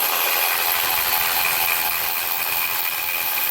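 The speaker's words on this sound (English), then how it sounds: "I wasn't even trying to attempt to break it free with this cordless ratchet, but it seems as I could have." Cordless ratchet spinning a starter bolt on a 2005 Honda Accord, a continuous loud, close whirring buzz with a bright high whine, heard alone for several seconds.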